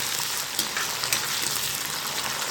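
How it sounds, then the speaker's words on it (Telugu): Chopped onions and green chillies frying in oil after curry leaves, a dense bright sizzle with light stirring clicks, close-up and continuous. "ఉల్లిపాయలు పచ్చిమిరపకాయలు కట్ చేసుకున్నవన్నీ వేసేసుకుందాం కొంచెం వేగాలి"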